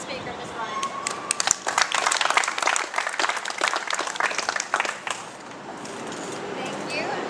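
A crowd applauds with dense, lively clapping for several seconds, then the clapping fades out into quieter room noise.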